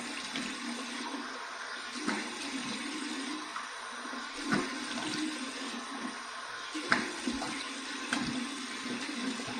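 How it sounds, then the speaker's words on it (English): Cold tap water running and splashing as a face is rinsed after a shave with a Bakelite safety razor, a steady close flow broken by several brief splashes, no talking. "There's the cold water. Here's my cold water rinse."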